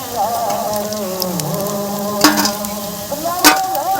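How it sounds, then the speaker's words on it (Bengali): Pakora fritters deep-fry in hot oil with a steady, close sizzle and bubbling, punctuated by a couple of sharp metallic scrapes of a spatula against the pan. "আর বড় মাত্রই একটু লাল লাল করে ভেজে তুলে নিতে হয়"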